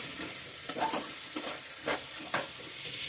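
Bitter gourd stir-fry cooking in oil on a low flame, a steady soft sizzle with a few brief stirring scrapes, close and fairly quiet, no voices.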